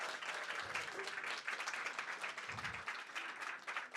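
A room full of people applauding the winning team at a business competition final, sustained brisk clapping throughout at a modest, somewhat distant level.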